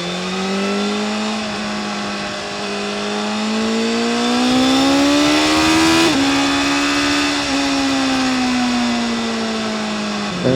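A BMW S1000RR motorcycle engine drones at high, steady revs while riding. The pitch climbs gradually and then eases back after a quick gear change, with strong wind noise underneath.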